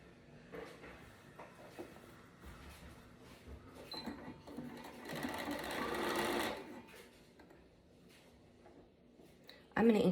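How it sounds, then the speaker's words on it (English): A sewing machine stitches the casing seam of a dress in a steady close whir lasting a few seconds, with quieter handling sounds around it and a sharp clack at the end. "so your casing will look really neat"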